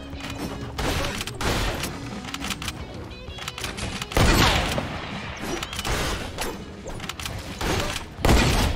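Gunfire in a Fortnite sniper one-shot match, dense bursts of shots and impacts over continuous game noise, loud and close throughout with a few heavier booms.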